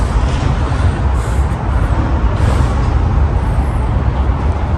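Steady, loud roadway rumble of trucks passing close by beside a park, a continuous low drone with occasional hiss and brake-like bursts, no talking.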